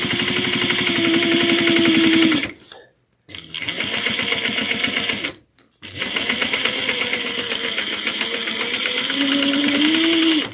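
A sewing machine back stitches a tote bag seam, running in steady rapid bursts with two brief pauses where the motor stops and restarts, loud and close with no talk over it.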